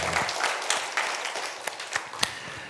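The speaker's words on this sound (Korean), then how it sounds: "하나님께 영광의 박수를 드리겠습니다" A church congregation applauding during an Easter service, a dense, steady patter of many hands clapping together, with a few sharper individual claps standing out near the end.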